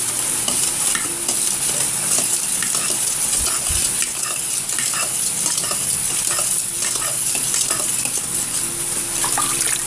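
Spoon stirring salt into a kangkong pickle mixture, a steady close wet swishing and scraping that continues throughout, with no talk.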